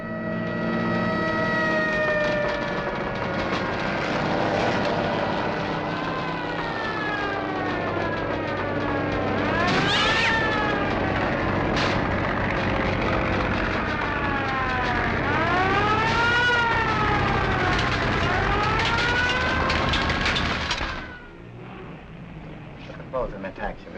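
A fire engine siren from a nearby firehouse wails in repeated rising and falling sweeps, loud and steady over a busy background before cutting off near the end.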